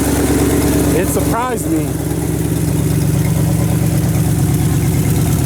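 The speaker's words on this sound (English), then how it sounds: "this thing is idling so good" Engine of a 1978 Chevy truck, once seized, idling with a steady low rumble and even pulsing throughout, loud and close, with a brief voice speaking over it partway.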